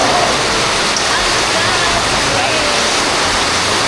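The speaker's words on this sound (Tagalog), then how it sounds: "Ay, lakas ang ulan." Heavy rain pours down in a dense, loud, continuous hiss that fills the whole moment and is steady from start to finish.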